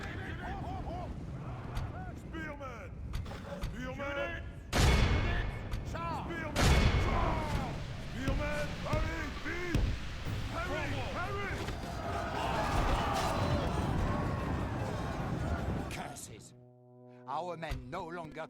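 Battle din from a medieval siege strategy game: continuous clamor with shouting voices, broken by a few heavy volley-like bursts and booms, loud and close throughout, then a brief quieter stretch before the noise resumes.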